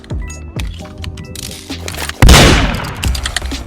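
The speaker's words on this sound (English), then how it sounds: "I jump over the murderer's head to get the gun and then I shoot him" Gunfire in Roblox Murder Mystery 2 on mobile: a loud, sharp shot that bursts out mid-clip and rings into a decaying tail, following a few softer game taps and thumps.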